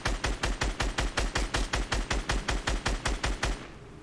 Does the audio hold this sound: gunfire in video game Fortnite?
yes